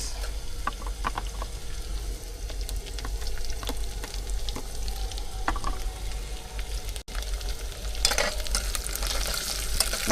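Chopped onion sautéing in a pan during roadside cooking in a truck: a steady, close sizzle broken by scattered clicks and scrapes of stirring, with a louder burst of frying toward the end.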